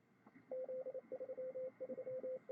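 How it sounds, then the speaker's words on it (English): Morse code picked up on the 3.5 MHz amateur band through an SDR receiver: a steady single tone keyed in quick dots and dashes over faint static hiss, clear and fairly close. "We'll get some Morse code there."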